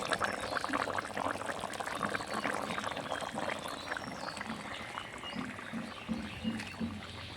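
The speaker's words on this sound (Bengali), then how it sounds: "একটু জল দিয়ে পোস্তর বাটিটাকে ধুয়ে দিচ্ছি।" Water swished around a bowl of poppy-seed paste and poured into cooking potatoes for aloo posto, a steady close sloshing and bubbling wash of liquid that continues without talk.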